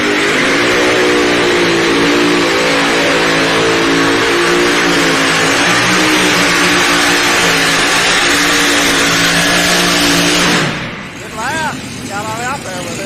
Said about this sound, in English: we've got our test puller on the starting line, Jeremy Correa.